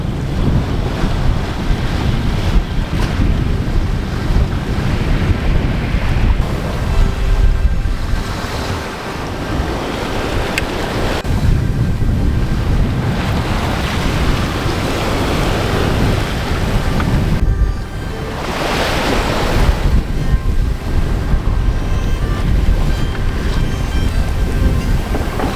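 Ocean waves and strong wind aboard a sailboat at sea after sunset, continuous loud rushing wash and gusting wind buffeting the microphone, with swells rising and falling and no voices.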